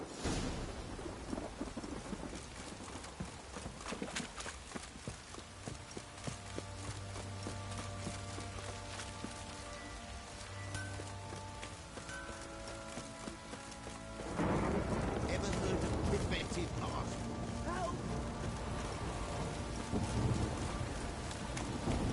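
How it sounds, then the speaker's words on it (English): Heavy rain downpour with rumbling thunder in The Witcher video game, a continuous wash of rain that swells louder partway through, with a low rolling rumble and game ambience beneath. "This downpour's a bastard, it is."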